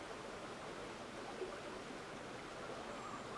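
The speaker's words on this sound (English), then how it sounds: "This is the river behind the house." Steady rushing flow of a river behind a house in bear and trout country, an even broadband wash heard alone, fairly quiet and unbroken throughout.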